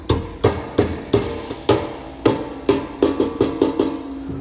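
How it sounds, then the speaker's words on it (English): Hammer blows tap a retaining clip onto the spring of a pivot arm while a B&W Companion OEM 5th wheel trailer hitch is installed. About a dozen sharp metallic strikes come in an uneven but steady rhythm, close and clear, with no talking. "Just tap that on with a hammer."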